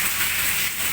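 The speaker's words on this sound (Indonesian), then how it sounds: "di daerah Bogor sedang hujan lebat dan angin kencang serta petir." Heavy rain with strong wind during a storm in Bogor, a dense continuous hiss of downpour hitting surfaces, loud and unbroken for the whole brief stretch with no voices.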